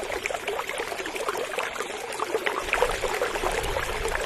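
River water flows continuously past a riverbank with a steady, bright rushing and trickling wash and a low rumble that swells toward the end.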